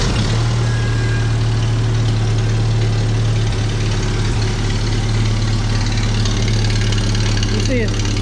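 A 1961 Farmall Cub garden tractor engine runs at a steady, loud idle throughout, with a constant low throb and no break in the sound.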